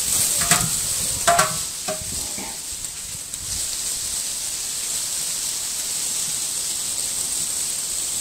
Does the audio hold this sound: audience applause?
no